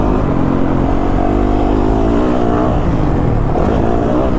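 A 2022 Yamaha YZ450FX dirt bike engine cruising at low RPM, a steady loud rumble with even, unhurried pitch that wavers slightly but never climbs into a rev.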